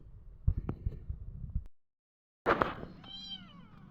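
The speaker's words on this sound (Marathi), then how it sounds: "सकाळ सकाळ ही पिल्ली माझी पण मांजराच्या भोवती खेळते. हा म्याव." A kitten meows in a short run of high, wavering cries near the end, after a stretch of low rustling and a brief silent gap.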